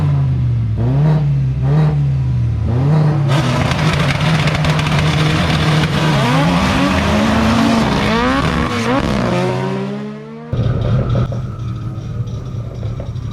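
A drag race car on Réunion launches from the start line, its engine roaring loud and close with rising revs and gear changes, before cutting off abruptly and leaving an idling rumble behind.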